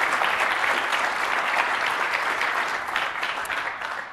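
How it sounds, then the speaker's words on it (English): Audience applause at a tech conference session on System Center 2012 and Orchestrator, steady and dense clapping from a large crowd throughout, fading slightly toward the end. "hopefully give them a round of applause as well"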